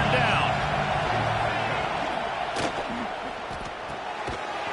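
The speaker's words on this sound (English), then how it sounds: "Here comes the noise from this big crowd in Happy Valley on third down." Big football stadium crowd in Happy Valley roaring on a third down, a loud sustained wash of cheering and yelling that fills the whole clip with a few sharp shouts rising above it.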